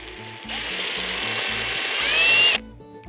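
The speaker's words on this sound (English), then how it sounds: "want to start with the hammer drill in drill mode to prevent the drill bit from walking" A hammer drill in plain drill mode bores into brick, a loud steady whirring grind with a rhythmic mechanical pulsing underneath, rising slightly in strain before cutting off abruptly.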